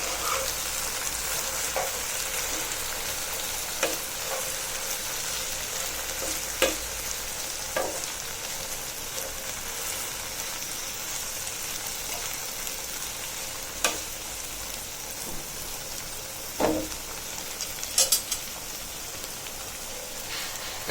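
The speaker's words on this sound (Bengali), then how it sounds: "আমার ঢেঁড়স ভাজি এক পাশ হয়ে যাওয়ার পর অপর পাশ উল্টিয়ে দিচ্ছি" Okra frying in a pan, a dense steady sizzle like light rain, broken by a few sharp clinks and scrapes as the pieces are turned over.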